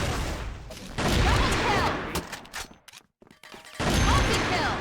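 A grenade blast in the Counter-Strike video game, with loud, broadband bursts and crashes that start hard at one second, drop into brief near-silence around three seconds, then return with another loud rumbling burst.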